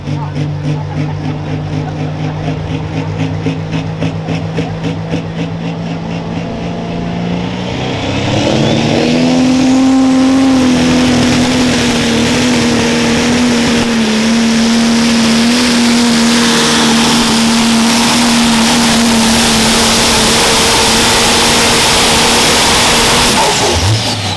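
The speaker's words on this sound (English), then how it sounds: "Tractor's been a little fussy, getting lit up." A loud, heavy pulling-tractor engine at a pro stock tractor pull roars and revs up, a deep rumble rising to a sustained high drone over a few seconds, continuing loudly throughout.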